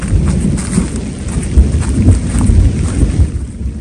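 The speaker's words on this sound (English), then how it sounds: "Where that thunder really rolls through the mountains here." Thunder rolling through the mountains along the Ouachita Trail during a rainstorm, a loud continuous rumble layered over steady rain that fades slightly at the end.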